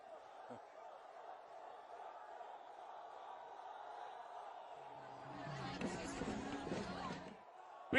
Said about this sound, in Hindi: आज तालियां गूंज रही हैं,